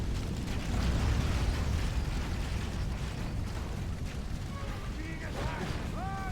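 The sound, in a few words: artillery firing and hitting troops in a battle video game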